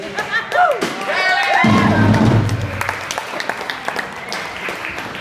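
An audience at a brewery concert at Great Brewing Co-Op claps and cheers through a band introduction. Voices and a sung or held tone are mixed in early on, and the clapping continues at a steady moderate level.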